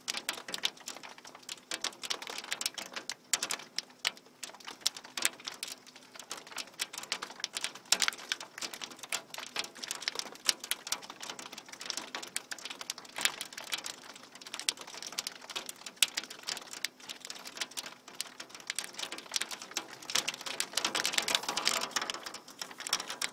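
Heavy rain mixed with pea-sized hail falls steadily outdoors, a dense broadband patter with sharp ticking impacts throughout, loud and continuous with no talk.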